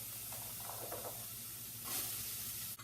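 Bite-sized asparagus pieces searing in a hot pan, a steady hiss of sizzling with a brief louder steam burst near the end, fairly close and with no one talking.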